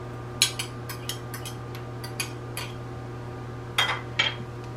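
Fork clinking against a bowl while mixing meatloaf ingredients such as beaten egg, onion and celery, with several sharp metallic taps spaced irregularly and a low steady hum underneath.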